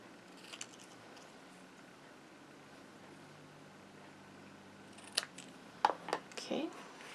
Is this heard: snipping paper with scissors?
yes